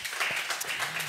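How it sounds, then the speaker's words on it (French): A studio audience claps for the crew of a French radio show, a brief, fairly dense patter of applause from a small crowd, close by and steady with slight swells. "On peut applaudir Clément Domergue"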